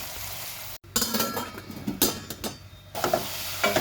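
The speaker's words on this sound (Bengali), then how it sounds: "তো মশলাটাকে একটু ভালোভাবে কষিয়ে নিব আমি।" Spice paste of red chilli, coriander and turmeric sautéing in a pan for a fish curry, with a loud hissing sizzle broken by a brief pause, then bursts of stirring and scraping, no voices.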